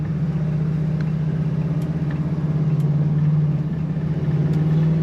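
A 1974 Chevrolet Camaro Z/28 V8 engine idles with a deep, steady rumble, loud and close, holding an even low burble throughout with no voices.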